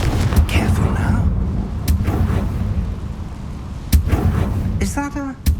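Confringo blasting spells explode in the Hogwarts Legacy video game: four sharp, booming blasts spaced a second or two apart, loud and close, over a low rumbling backdrop, with a brief voice near the end.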